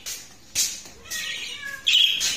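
A cat sitting near a bird setup lets out a few short meow-like calls in separate bursts, with a higher tonal cry near the end and faint bird chirps around it. No one speaks.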